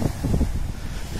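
Strong wind buffets the microphone in a loud, rough roar, with rising sea waves surging underneath on the Croatian coast.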